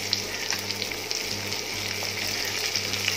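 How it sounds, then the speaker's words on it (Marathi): Garlic, chilli and curry leaves fry in a pan with a steady, close sizzle and crackle that holds evenly throughout, with small pops scattered across it and no talking. "हा कढीपत्ता आहे मी त्याच्यासोबतच टाकते याच्यामध्ये"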